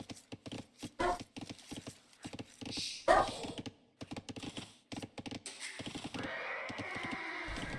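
In an Age of Empires II match, a mounted unit makes game horse sounds: quick clip-clop hoofbeats and a neigh, set among sparse clicks and thuds, followed by a steady wash of game noise at the end.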